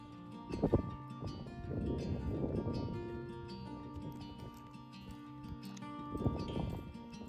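Horse hooves from Quinn being ridden on a ranch thud and clop in an uneven series, close and moderately loud, with rustling between the footfalls.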